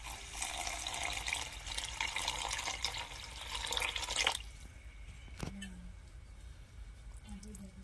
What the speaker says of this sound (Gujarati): હવે રસો કરવા માટે આપણે થોડુંક પાણી નાખશું.